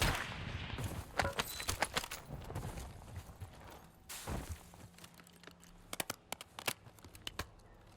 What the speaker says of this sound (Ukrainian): Снайпер десь стріляв, да?